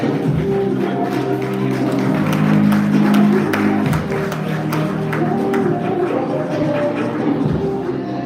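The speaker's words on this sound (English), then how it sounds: "Please give her another round of applause, ladies and gentlemen." Gala audience at an awards summit applauding: a continuous wash of crowd clapping with a murmur of voices and tones mixed in, fairly loud and steady.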